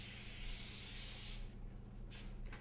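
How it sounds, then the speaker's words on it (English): Cooking oil sprayed onto a plastic storage bag, a continuous close hiss for over a second, then a couple of short bursts against a low background hum. "And so I'm going to spray one side."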